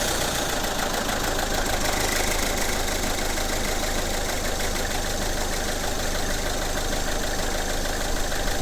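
A freshly serviced van engine, just after an oil, fuel filter and air filter change, idles steadily close by with a loud, even rumble and a rapid knocking throb, no talk.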